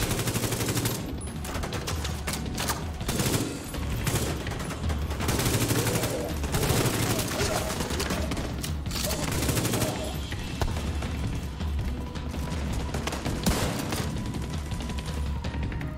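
Sustained covering gunfire in The Division 2 crackles in dense automatic bursts for the full stretch, loud and continuous with booming impacts layered in.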